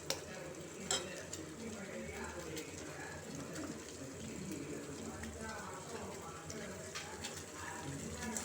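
Beaten eggs are stirred with onions in an oiled frying pan, a faint soft sizzle and scraping stir under a quiet background voice, with doves cooing in the distance.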